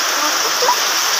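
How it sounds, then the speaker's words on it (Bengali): Heavy rain pours down in a loud, dense, continuous rush of splashing water that fills the short moment. "ওই যে দেখুন কি বৃষ্টি হচ্ছে, বাপরে বাপ।"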